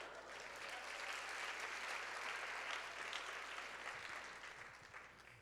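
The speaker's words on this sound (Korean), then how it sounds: "여러분 몇 분이 박수 치면 다 같이 치지 안 쳐요?" Steady audience applause fills a church youth worship service, dense continuous clapping from a sizable crowd that holds level throughout before easing slightly toward the end.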